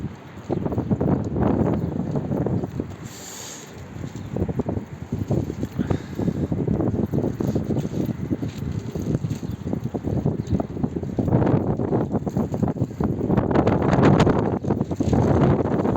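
Strong wind blows outdoors, a continuous rough rumble with gusty buffeting against the microphone that lasts throughout, rising louder toward the end, with no voices.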